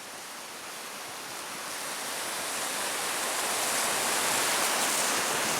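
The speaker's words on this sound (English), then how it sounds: "the water will just rush up. You know, maybe the river will just swell a little bit from some uphill flow" River water rushes near Vernal Falls in snowy Yosemite as a loud, steady broadband roar that swells slightly over time, close and continuous, with no clear talking over it.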